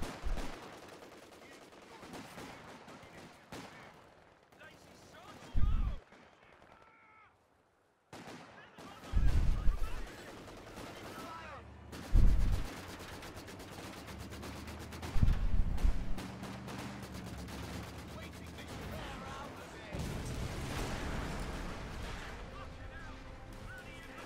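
A machine gun team fires in a Company of Heroes 2 battle: several loud bursts of gunfire and explosive booms spread across the stretch, with constant battlefield rumble between them.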